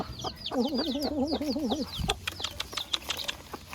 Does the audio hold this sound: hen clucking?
yes